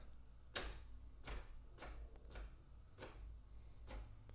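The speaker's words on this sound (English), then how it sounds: "Now it will take a paper and it will print on it." An HP Deskjet 3700 printer feeds in a sheet and prints, giving quiet, evenly spaced mechanical clicks and whirs roughly every second, faint and close with no talking.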